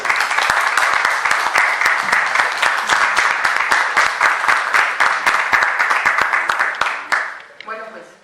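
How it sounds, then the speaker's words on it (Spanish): Audience at a lecture on Calle 5 de Mayo applauds the guest speaker, steady loud close clapping that stops abruptly, followed briefly by a voice. "le pido un aplauso"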